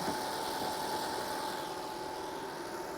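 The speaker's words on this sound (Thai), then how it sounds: "เครื่องยนต์นะเดินเรียบไม่มีสะดุดเสียง ไม่ดังนะครับ" A quiet, smooth Toyota Alphard 2.5 Hybrid engine idle hums steadily with a faint high whine, heard from close by under the open hood, no voices.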